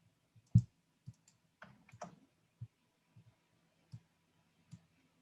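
Sparse, crisp computer mouse clicks, a handful of single taps spaced irregularly about half a second to a second apart, with a short double-click flurry midway, close and quiet with no talk.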